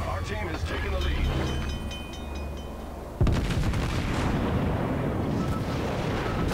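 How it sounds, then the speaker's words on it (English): Naval gunfire rumbles through a World of Warships battle, with a sustained roar of shelling and a sharp boom midway followed by dense rolling blasts. "We're on fire, we're being bombarded by 4 ships."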